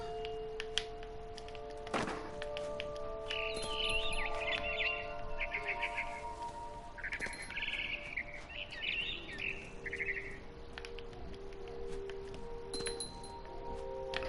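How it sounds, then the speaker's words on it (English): A bird chirps in the video game What Remains of Edith Finch, with bursts of quick, bright calls in the first ten seconds, some glassy clinks and a thunk, all over a steady low ambient hum. "I tried to be quiet, but the bird was really scared."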